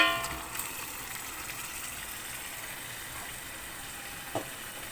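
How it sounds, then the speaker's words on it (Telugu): Boiled mutton tipped into a hot pan for a mutton gravy, giving a steady low sizzle and frying hiss throughout, with a brief louder clatter near the end; no talking. "ఇదిగోండి ఉడకబెట్టుకున్న మటను ఇలా ఏగుతున్న దాంట్లో ఇలా వేసేసుకోవాలి"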